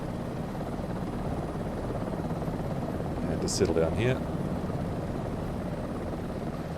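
Helicopter rotor and engine drone in Microsoft Flight Simulator 2024 on a formation flight to Whistler, a steady loud broadband hum throughout with someone speaking briefly over it.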